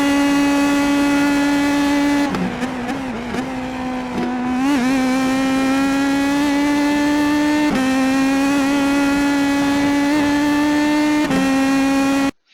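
An IndyPro2000 race car at Monza in iRacing screams loudly and steadily at high revs, with several sharp downshift blips and gear changes through a corner before climbing back up, no voices.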